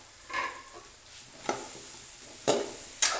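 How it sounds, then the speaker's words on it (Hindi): Green-chickpea koftas frying in a thick masala gravy: a low background sizzle broken by several sharp scraping stirs of a spoon against the pan, the last two louder and closer. "इसे सिर्फ मैंने 3 से 4 मिनट के लिए इसे भूनना है ताकि जो मसाला है इसको अच्छी तरह लग जाए"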